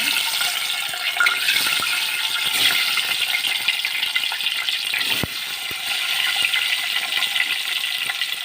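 Eggs frying in hot oil in a home kitchen, the eggs coated with turmeric, give off a steady, dense sizzling hiss that holds at an even level throughout, with no voices.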